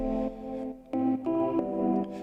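Sustained, mellow electric piano chords changing every half second or so, warm and clear with no voices.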